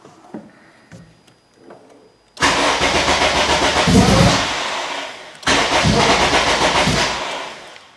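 Acura RSX engine cranking with its fuel supply cut by a ghost-lock immobiliser, two loud sustained bursts of starter whir after a quiet lead-in, each cut off abruptly, with no catch and no idle following.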